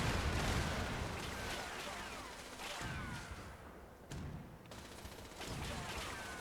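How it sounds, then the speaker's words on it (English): Heavy gun fire in Fallout 76 during a raid: rapid bursts of loud gunfire and impacts with crackling debris, several distinct blasts separated by brief lulls. "you want to shoot the heavy gun once in a 6 seconds"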